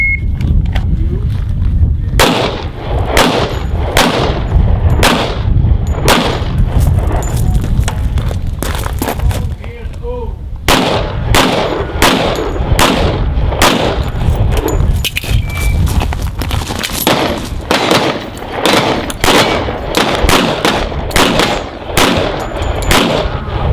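Rapid gunshots from a standard, unmodified 1911 TRP pistol at an outdoor 1911 shooting event, a dense run of loud, close, sharp reports in quick strings with only a short pause, over steady background noise.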